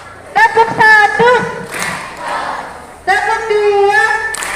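A classroom of students chants in unison, then claps together once on command; the single group clap lands mid-clip between the loud voices.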